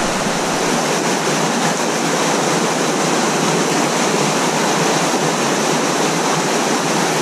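Steady broadband water rush of a low river flowing, close and continuous throughout with no voices.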